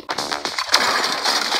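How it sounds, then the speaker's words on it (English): Gunshots in the mobile action game Johnny Trigger, a run of sharp broadband cracks over a busy game soundtrack, several shots in quick succession. "Gunshot."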